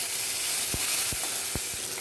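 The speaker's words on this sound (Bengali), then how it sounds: "আলু ভাজার তেলে ফোড়নগুলো সব দিয়ে দেবো" Whole spices sizzle steadily in hot oil left over from frying potatoes, a close, continuous hiss broken by a few sharp pops and stirring clicks, with no talking.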